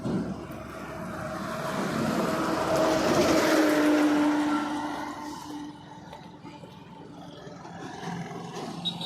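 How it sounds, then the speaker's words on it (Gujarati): A Vande Mataram express train on the Kutch line rushes past with a broad, roaring rumble that swells to a peak and then slowly fades, heard outdoors beside the track. "વંદે માતરમ ટ્રેન"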